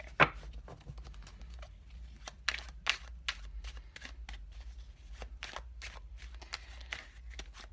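Tarot cards shuffled by hand in a quiet room, a rapid run of soft riffling and papery slaps, close and fairly faint, coming in irregular bursts without talk.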